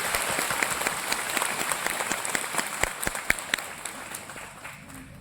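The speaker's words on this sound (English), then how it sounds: "round of applause" Audience applauding at a church conference, a steady wash of many hands clapping in a hall with distinct individual claps standing out, easing slightly toward the end.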